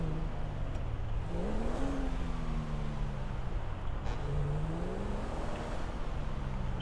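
A motorcycle engine in GTA 5 revs steadily nearby, its pitch rising and falling in long sweeps over a continuous engine drone, with no talking.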